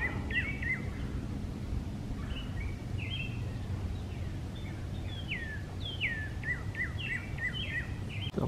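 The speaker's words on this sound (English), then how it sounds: "Hear the birds singing." Birds sing in quick, bright chirping phrases in Iroquois Park on an April morning, over a low steady background rumble, several calls repeating at moderate distance with no talking.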